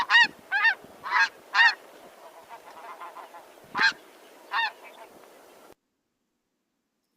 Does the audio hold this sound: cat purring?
no